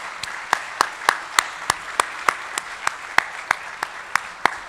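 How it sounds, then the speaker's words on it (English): Conference audience at a brownfield awards closing session clapping in a slow, regular, near-unison rhythm, about a dozen sharp, evenly spaced claps over a faint background. "how about we all give each other a round of applause for a really fun couple of days"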